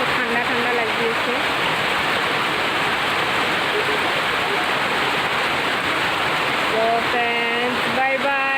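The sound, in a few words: rain falling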